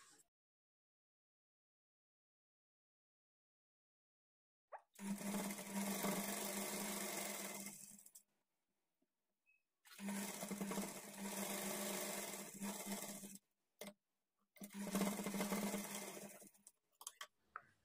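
A sewing machine stitches a blouse in three separate bursts of a few seconds each, with brief quiet gaps and a couple of short taps in between.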